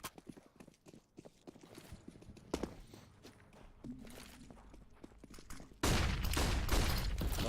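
In a CS:GO match on Dust 2, scattered footsteps and small impacts give way to a sudden loud, dense barrage of gunfire and grenade blasts near the end.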